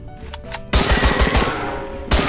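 Gunfire in a train simulator video game with weapons, a sudden loud burst of rapid repeated shots after quieter scattered pops, ending with another sharp blast.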